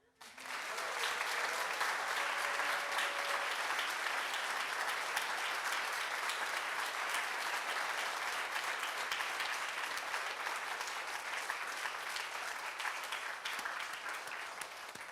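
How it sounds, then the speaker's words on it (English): Sustained, dense applause from an audience after a poetry performance, a loud steady roar of many hands clapping that continues unbroken for about fifteen seconds. "Can we get another round of applause for Maia and Taya and Claudia?"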